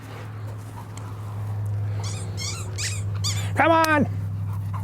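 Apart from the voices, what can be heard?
playful puppy whimpering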